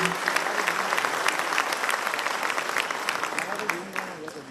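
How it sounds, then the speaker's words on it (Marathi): Lawyers in a packed conference hall in Solapur clap together in a sustained, vigorous burst of applause, crisp individual claps standing out over the crowd before it tapers slightly near the end, with a voice faintly present underneath. "जरा जोरात टाळ्या वाजवा"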